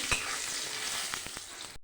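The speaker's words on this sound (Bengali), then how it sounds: "বড়িগুলো ভালো করে ভেজে নেব একটু।" Lentil bori fry in hot oil, giving a soft, steady crackling sizzle with a few sharper pops and a light stirring scrape near the end.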